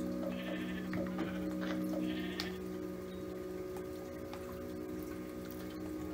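Sheep bleat several times in Minecraft, short wavering calls in quick succession near the start, then fading into a steady watery ambient hum with no talking.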